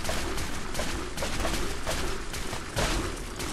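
Rapid, sustained gunfire from a radium rifle in Fallout 4's Far Harbor, a dense unbroken stream of loud shots filling the whole stretch with no pauses.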